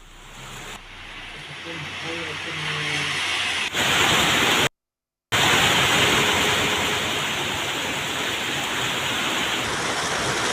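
A sudden heavy summer downpour with rainwater flowing like a flood across roads in the Palladam area of Tiruppur district, heard as a steady, loud, dense hiss of rain and running water.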